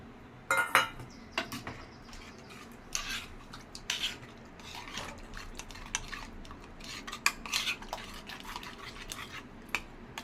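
A metal spoon clinks and scrapes against a pot while rice flour is stirred into an amaranth leaf stew, with irregular close, quiet taps and stirring strokes and no talk.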